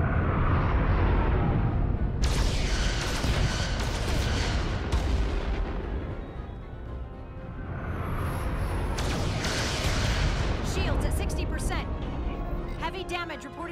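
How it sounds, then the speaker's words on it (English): Heavy booming weapon fire from a starship launching photon torpedoes in the game Star Trek: Resurgence, loud rumbling blasts rolling one after another beneath urgent voices giving commands. "Fire photon torpedoes!"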